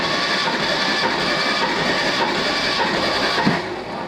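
AMC 232 inline-six engine being cranked over on the starter with a remote wire, a continuous loud close whirring drone with a faint steady pulse, without firing.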